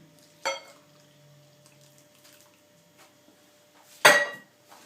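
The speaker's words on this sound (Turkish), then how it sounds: "Erittikten sonra da e, karışımı döküyoruz protein üzerine" Melted mixture is poured over protein powder in a bowl for homemade protein bars, with two sharp clinks of a utensil against the bowl and light scraping between them, close and otherwise quiet.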